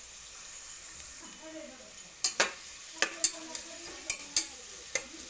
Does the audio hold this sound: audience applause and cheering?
no